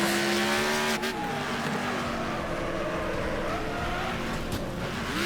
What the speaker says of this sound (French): ça patine, ça dérape